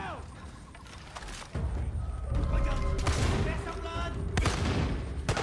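Gunfire in the video game Far Cry 5: a burst of rapid shots breaks out, then repeated loud sharp cracks and bangs follow over a rumbling backdrop, with players talking over the action.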